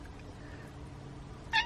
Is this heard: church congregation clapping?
no